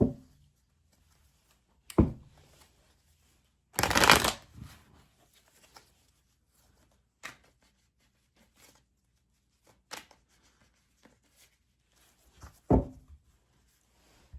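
Tarot cards are handled and shuffled in a quiet room, heard as a few sparse flicks and thumps around one loud burst of riffling, with no talking.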